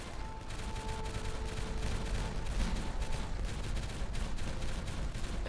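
Explosives going off in the beaver colony-building game Timberborn: a dense, continuous rumble of overlapping blasts and crackling debris, loud and steady throughout with no clear pauses, plus a faint tonal hum in the background.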